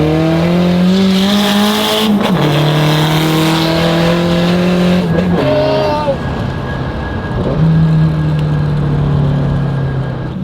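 The LZ AE86 drives with a loud, close engine drone that climbs in pitch through the gears, dropping at each shift before rising again, a constant roar with no gaps.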